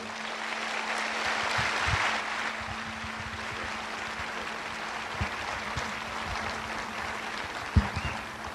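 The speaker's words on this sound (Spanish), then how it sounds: "un gran aplauso para recibirlo" A seated audience at a lecture in Mexico by Dr. Ricardo Castañón Gómez gives sustained, even applause that stays at a moderate level throughout, with a low electrical hum underneath.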